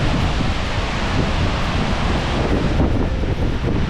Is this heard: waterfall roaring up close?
yes